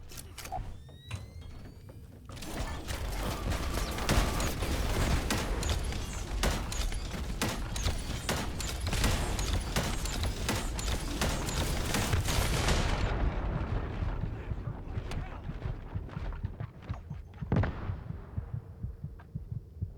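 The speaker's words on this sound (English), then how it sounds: "we're going to use the perforator to get that fire rate bonus for the ultimate" Rapid perforator gunfire in The First Descendant runs as dense, loud automatic bursts from about two and a half seconds to thirteen seconds, with scattered single shots and impacts before and after.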